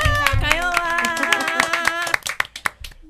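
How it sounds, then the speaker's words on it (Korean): A studio audience gives a short burst of clapping after a song, heard beneath a host's voice and music, the claps growing sparse toward the end. "다시 한번 박수 드릴게요"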